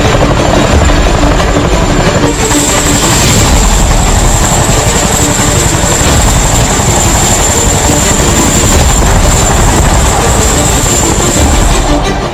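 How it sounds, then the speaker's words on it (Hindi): A Chinook helicopter airlifts an artillery gun, its heavy rotor roar loud and continuous throughout with a steady high whine above the rumble and no pauses. "देखिए किस तरह से चिनूक तोप को उठाकर ले जा रहा है।"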